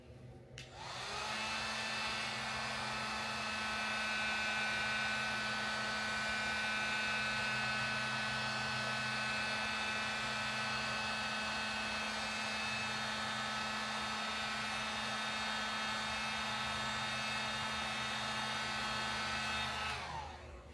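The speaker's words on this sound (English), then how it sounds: "use my heat gun, and if you are doing this, level 1" Heat gun blowing hot air onto a Dodge Hellcat badge, a loud continuous whooshing hum with a steady motor whine lasting about twenty seconds, switched on and off cleanly, no talk.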